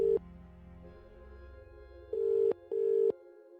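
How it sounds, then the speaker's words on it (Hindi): Phone ringing tone on a call: a short beep followed by two quick rings in succession, clear and close over a quiet low hum. "बुमराह ने बाहर अपने मित्र डॉक्टर शेखावत को फोन लगाया।"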